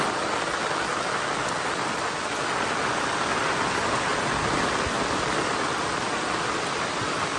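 Heavy sudden rain pours steadily onto a house in rural Konkan, a dense, even hiss of drops that stays loud and unbroken throughout, with no voices.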